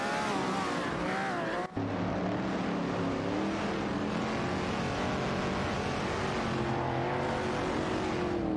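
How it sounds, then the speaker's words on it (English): Race cars roar through an AI-driven career-mode racing video game, engines whining and shifting pitch as cars pass, a continuous moderately loud drone with a brief cut early on and no talk. "Bot Sarayan III has made a significant move, jumping from 13 to 10, after overtaking 4 cars in quick succession"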